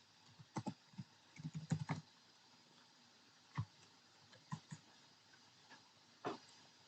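Quiet typing on a computer keyboard, scattered clusters of soft keystrokes with pauses between them, heard alone against faint background hiss.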